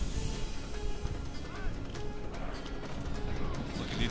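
Hooves clip-clop in a quick galloping rhythm amid a busy mix of Rome: Total War game noise, with a brief whinny in the middle.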